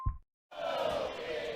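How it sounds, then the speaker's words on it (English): A crowd cheering inside Cardinal Gym at a women's basketball game against Kilgore, a sustained roar swelling up after a brief silence, steady and full across the short stretch. "Cardinal cheer out on the floor here at Cardinal Gym."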